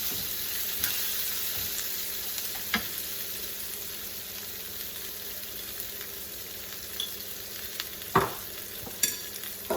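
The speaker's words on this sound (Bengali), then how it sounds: "এটাকে জাস্ট হালকা একটু নেড়ে দিয়ে এর মধ্যেই হলুদের গুঁড়াটা দিয়ে দিব, তারপর চিরাটা ঢেলে দিব" Flattened rice with turmeric fries in hot oil in a pan, a steady soft sizzle broken by occasional scraping strokes of a stirring spoon, close and without talk.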